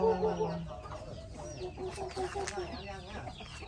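Chickens, including fighting roosters, cluck repeatedly nearby in short, uneven bursts at a rural Thai rice field, with other fowl calling faintly in the background.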